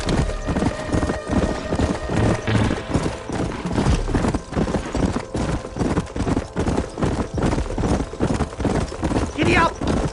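Horse hooves clip-clop steadily through a Western video game set near Blackwater, with a whinny near the end, under game dialogue and background sound.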